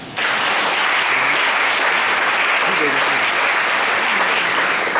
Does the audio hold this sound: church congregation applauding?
yes